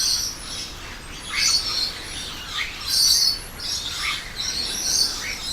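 Birds sing outdoors during a morning yoga session, with steady chirps and trills rising and falling throughout at moderate distance over a soft background hiss and no voices.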